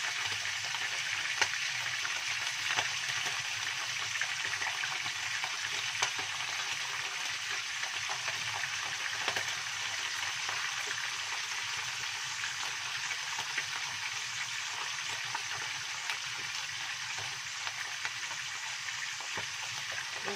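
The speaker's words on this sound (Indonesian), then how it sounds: "Kecilkan api, apinya blek-blek ya, karena di dalam perutnya ada telurnya." Capelin fish full of roe frying in hot oil over low heat, a steady close sizzle with scattered sharp pops and spatters running throughout, no talking.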